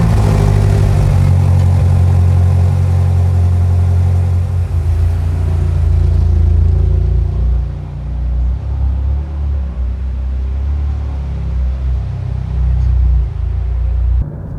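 A BMW M8 Gran Coupe on winter tyres rumbles loudly up close, its engine droning steadily before the tone shifts and it pulls away, continuing as a lower, slightly fading roar.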